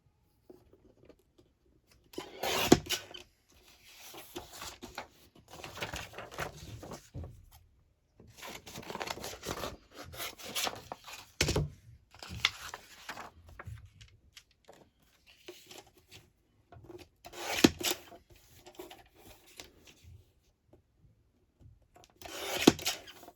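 Scissors or a cutter trimming paper journal cards, short dry snipping and rubbing bursts scattered across the clip with quiet gaps between, close and fairly soft.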